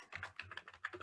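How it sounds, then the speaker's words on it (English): Quick, quiet taps on a computer keyboard, a short burst of about a dozen keystrokes heard up close with no talking. "and you can start typing"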